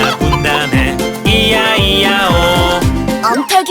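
Bright, bouncy children's farm song in which repeated chicken clucks fall in rhythm with the music, while sung voices imitate the hens' clucking over a steady, upbeat accompaniment.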